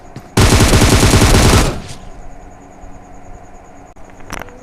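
Sustained automatic gunfire sprays in PUBG Mobile for over a second, loud and dense, rapid shots blurring into a continuous roar, then quieter ambient game sounds with one faint later burst.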